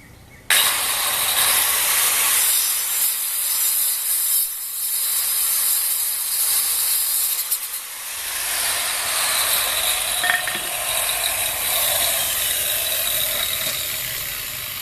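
Continuous saw noise while cutting wood during a repair of a watering can, a steady rasping grind that stays loud and close for the whole stretch.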